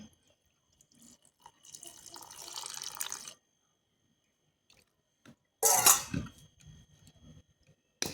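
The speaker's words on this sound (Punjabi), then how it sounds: "ਆਪਾਂ ਇਹਦੇ ਵਿੱਚ ਥੋੜਾ ਜਿਹਾ ਹੋਰ ਪਾਣੀ ਪਾਉਣੇ ਆ" Water poured into a flour batter for sweet gulgule fritters, heard as two separate pours: a longer steady trickle and then a shorter, louder splash with drips, close by and with no talking.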